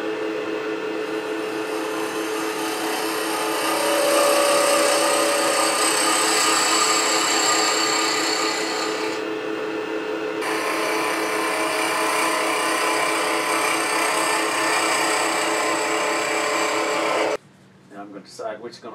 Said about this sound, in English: I'm going to make this hole maybe 1/8 of an inch.